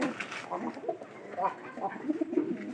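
A pigeon coos softly in low, rolling murmurs, fairly close, among faint background voices and ambient noise.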